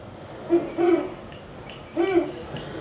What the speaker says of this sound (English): It's a little owl.